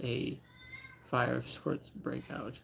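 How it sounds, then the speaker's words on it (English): A pet cat with matted, lumpy fur meows in protest while being brushed, loud wavering cries in the background under someone talking. "I don't know if you can hear my cat being tortured in the background."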